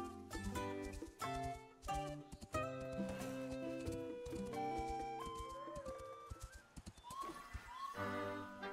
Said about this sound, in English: press A to mount the horse and use left stick to move